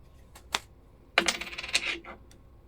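A coin dropped after a coin flip during a game stream, landing with a small tap, then a cluster of rapid metallic clinks and rattles as it bounces and settles, close and fairly quiet.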